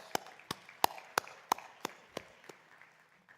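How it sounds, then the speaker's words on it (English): Scattered hand claps from a hackathon audience, about nine sharp separate claps spaced roughly evenly and fading toward the end, thin rather than a full round of applause. "Big round of applause."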